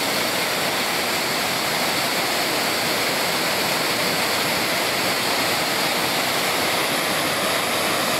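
Steady, loud rush of the Cascata Antônio Monteiro waterfall near Pocinhos do Rio, a continuous broadband roar that fills the whole stretch without any voices.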